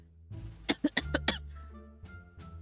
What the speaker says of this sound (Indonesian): Saya batuk betulan